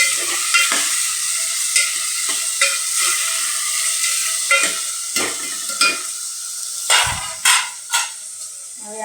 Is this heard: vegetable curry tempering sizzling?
yes